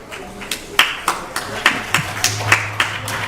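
Sparse, rhythmic clapping from a small audience at a Lord Narasimha appearance festival in Phoenix, Arizona, about a dozen distinct claps at a steady pace with voices murmuring underneath.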